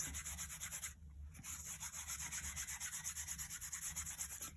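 Gilding flakes being rubbed off a picture by hand, a steady rhythmic brushing rub repeating several times a second, close and moderately loud, with a brief pause near the start and no talking.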